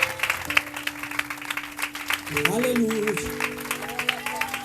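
Church congregation applauding in praise during an evangelical service, a steady wash of clapping with sustained organ or keyboard tones underneath and a voice calling out briefly over it.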